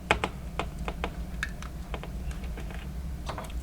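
Small clamps fastened onto a glued WaterPik handle give a quick, irregular series of sharp, close clicks and ticks with no talking.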